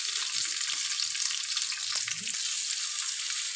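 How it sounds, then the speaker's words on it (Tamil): Onions frying in hot oil with a bay leaf for a vegetable white kurma give a constant close, loud sizzle, with faint low clatters beneath it. "ஆனியன் நல்லா வதங்கட்டும்."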